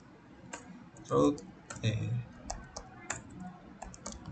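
Sparse keystrokes tap on a computer keyboard while network router settings are typed, with irregular clicks, a brief louder burst of key presses, and quiet speech in between.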